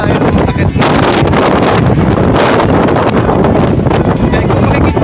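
Strong wind buffets the microphone high on a mountain, a loud and continuous roar with gusty surges and no speech.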